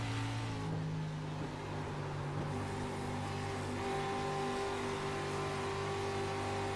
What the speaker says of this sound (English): Definitely a little bit different tone from the engine than what we were hearing in qualifying.